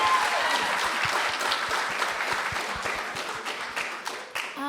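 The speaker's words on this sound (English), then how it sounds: "I think that deserves another round of applause" An audience at a youth poetry slam gives a performer another round of applause, a broad burst of many clapping hands, strong at first and slowly thinning toward the end.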